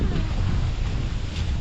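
A strong stormy wind roars continuously across the microphone on a rural hillside, a loud, dense rumble with no let-up and no talk heard.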